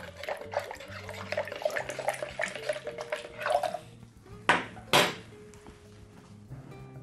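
Water is poured into a bowl of flour while dough for lagman is mixed, with clinking of kitchenware and a couple of sharp splashes or knocks standing out near the end.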